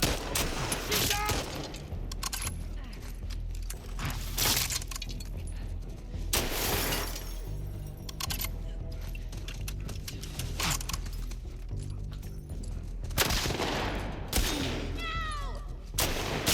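Gunfire in The Last of Us Part II, several sharp bursts scattered through a busy combat scene with bangs and clatter, mixed with game sounds and some voices.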